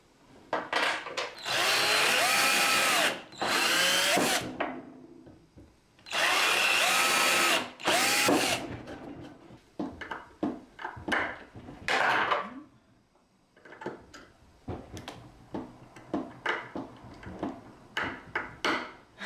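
Power screwdriver driving screws into a plain wooden shelf during a small bathroom makeover: several long, loud whirring runs, then shorter bursts and scattered knocks and handling clatter.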